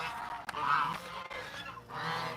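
Several geese keep honking close by outdoors, their harsh calls rising and falling in bursts with brief gaps between them.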